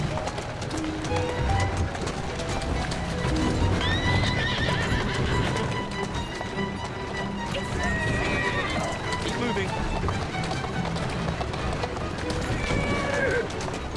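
Rapid hoofbeats of a galloping horse in the video game Assassin's Creed Syndicate, with loud neighs and whinnies, mixed under a person talking throughout.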